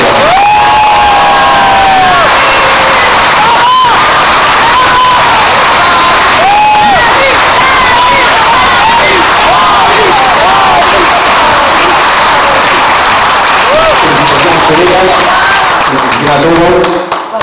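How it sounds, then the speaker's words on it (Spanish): A large crowd applauding and cheering at a nighttime school event, loud and continuous with shouts and whoops from many voices, tapering off near the end. "Este último aplauso"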